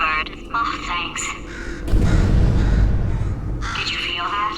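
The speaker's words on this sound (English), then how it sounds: "I hate this bird." A bird caws harshly in Portal 2, a loud rough squawk burst in the middle of the scene, with a voice talking before and after it.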